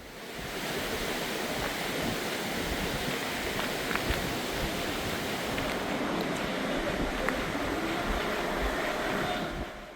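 Water rushes in a steady, loud broadband roar through the Gucheondong valley, a mountain stream with tiered waterfalls pouring nearby, the flow continuous and unbroken with no voices.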